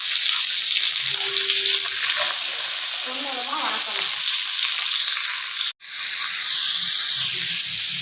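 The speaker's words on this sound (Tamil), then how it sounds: "பட்டை கிராம்பு பச்சை மிளகா சோம்பு எல்லாம் போட்டு தாளிச்சிட்டேன் இப்போ பெரிய வெங்காயம்" Onions frying with cinnamon, cloves, green chilli and fennel for cauliflower kurma, a loud continuous close-up sizzle with some stirring scrapes and one brief sharp knock partway through.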